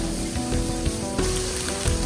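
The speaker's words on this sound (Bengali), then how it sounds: "এবার তেলের মধ্যে দিয়ে দিচ্ছি পরিমাণ মতো পেঁয়াজ বাটা" Onion paste sizzling and crackling in hot oil in a pan for a chicken roast, a steady loud frying hiss with occasional pops and stirring clatter, with no talk.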